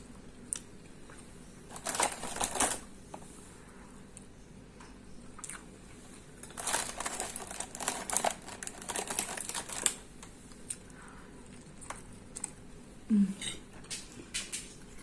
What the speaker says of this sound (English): sorry about the noise when you get done with the packet